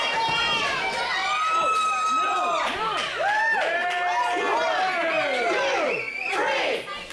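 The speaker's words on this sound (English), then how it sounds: "Another great crowd on hand as well to witness it" A large crowd at a PWA professional wrestling show cheers and shouts steadily, with excited whoops and yells rising and falling throughout.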